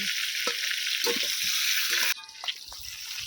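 Pointed gourd (potol) pieces fry in hot oil in a pan with a steady, dense sizzle and occasional stirring knocks. The sizzle drops suddenly to a quieter hiss partway through.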